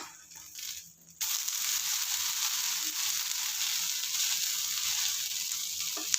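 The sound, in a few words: instant tomato rava dosa frying on the pan after flipping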